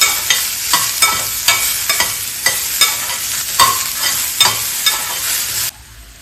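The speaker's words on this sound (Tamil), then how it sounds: "உருளைக்கிழங்கு, தக்காளி எல்லாம் போட்டு வதக்கிக்கலாம்." Potatoes and tomatoes sauté for sambar with a loud, steady sizzle and regular scraping stirs about twice a second, close up, ending abruptly with no talk.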